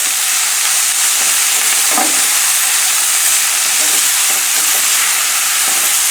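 Shrimp chow mein noodles fry in a hot salted pan, giving a loud, continuous sizzle and hiss with faint stirring scrapes running through it.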